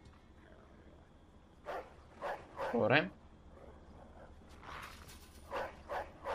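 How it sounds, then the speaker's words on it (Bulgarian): Dog barking in the video game Mafia II, a few sharp barks in quick succession at mid distance, heard alongside someone talking over game ambience. "Залагаме тук, защото кучето лае по нас."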